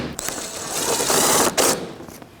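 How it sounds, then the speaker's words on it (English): A ratchet drives bumper cover bolts back in on a 2006-2012 Toyota RAV4 2.4L, a fast continuous whirring clatter up close that pauses briefly midway and then resumes. "now we can put our bolts back in."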